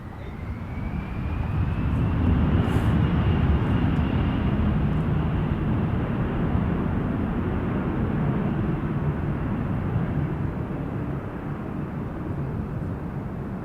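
An Air Canada airliner takes off from runway 23 at Toronto Pearson in a gusty crosswind, its jet engines a loud, sustained roar that builds early and then holds steady and broad for the whole stretch.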